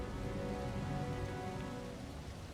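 Blood rain falls in Diablo IV as a dense, steady hiss of rainfall with a low rumbling bed, constant and unbroken throughout.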